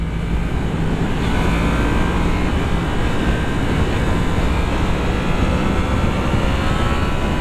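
Yamaha MT-10 motorcycle engine under half-open throttle, a steady loud roar that holds without breaks, heard from on the bike with heavy wind rumble.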